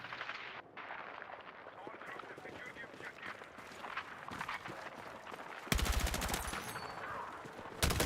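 Player's rifle firing in Battlefield 6, a loud burst of rapid automatic shots near the end, cutting through distant battle noise while someone talks.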